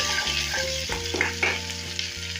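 Onions with chopped dried red chilies sizzle and crackle in a pan as a utensil stirs them, steady frying hiss with a few scraping strokes and no talking.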